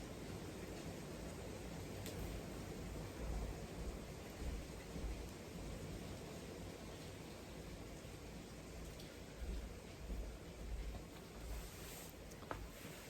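Heavy rain pours down in a dense, unbroken hiss with low rumbling swells, steady and enveloping with no talking.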